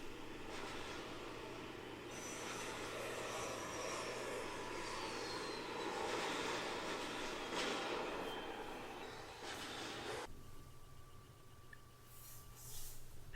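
Steady drone of an aircraft engine in the iPad flight combat game Sky Gambler's Air Supremacy, a continuous mid-level roar with a few whooshing passes before the tone shifts near the end.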